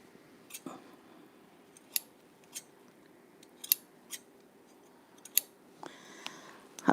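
Sewing scissors snip broken thread, giving about eight crisp, separate cuts spaced unevenly over several seconds. The snips are close and sharp in a quiet room, with no talking.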